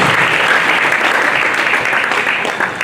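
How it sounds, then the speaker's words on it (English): Loud, dense audience applause at an international academic conference as the Vice Chancellor comes up to the table, steady clapping from a large crowd that tapers only slightly at the end. "Clap for our Vice Chancellor now as he comes up to the table"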